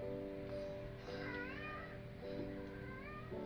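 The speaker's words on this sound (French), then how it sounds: "re-bienvenue le chat qui miaule en arrière-plan" A cat meows several times in the background, rising and falling cries over a steady room hum.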